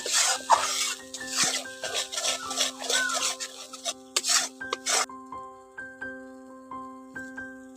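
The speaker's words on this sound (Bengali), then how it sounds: "দিয়ে ভালো করে এখন মিশিয়ে নিচ্ছি" Spices and red chilli powder being stirred and scraped in a pan for a katla fish curry, rhythmic rasping strokes that stop after about five seconds, leaving a faint steady hum.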